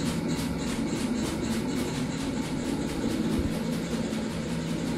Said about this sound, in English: I can see now mountain type is departing.